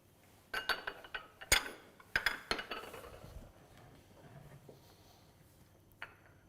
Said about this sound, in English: The ganache is ready, and we stir the butter inside.